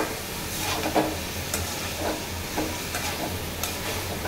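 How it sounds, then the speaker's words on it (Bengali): Potatoes frying with dried mola fish in a pan, a continuous close sizzle with periodic scraping stirs every half second or so, no talking. "আমি এটা আলু দিয়ে মলা মাছের শুটকি ভুনা করতেছি"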